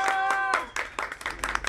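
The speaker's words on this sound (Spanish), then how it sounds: "¡Fuerte el aplauso!" Children and guests clapping at a birthday party with a Minnie Mouse costume character and clown show, heard as a handful of quick, close claps among lively voices and chanting.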